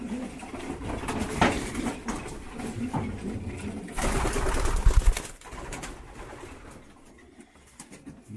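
Racing pigeons in a breeding loft flutter and coo close by, a busy mix of wingbeats, soft calls and clatter that swells to a loud burst midway before thinning to a quieter, sparse tail.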